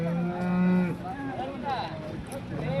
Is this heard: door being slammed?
no